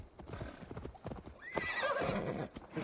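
Horse in the video game Assassin's Creed Valhalla: rhythmic clip-clop of hooves at a steady gait, followed by a clear whinny rising over the footfalls, fairly close and moderately quiet.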